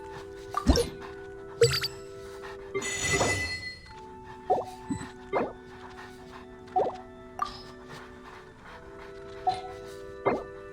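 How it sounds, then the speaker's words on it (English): Dogs bark in a series of short, sharp, close yips spread across several seconds, with a burst of louder, busier noise near the start and faint clinks underneath. "Oh my god, my dogs will not shut up."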